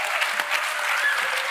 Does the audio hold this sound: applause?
yes